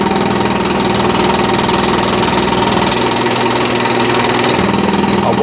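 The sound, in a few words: air compressor intake pulsing at the filter housing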